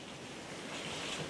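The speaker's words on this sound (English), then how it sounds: "It's really windy here." Outdoors, wind blows in a steady, low rushing wash with soft buffeting against the microphone, faint and continuous, with no voices.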